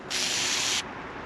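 Rust being rubbed off a metal surface after a spray of WD-40: one brisk, close scrubbing stroke lasting under a second, then quiet.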